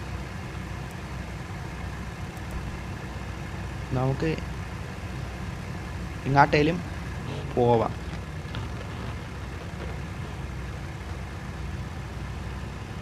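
A car engine idling in the Car Parking Multiplayer video game, a low, steady hum running underneath while someone talks over it in a few short bursts.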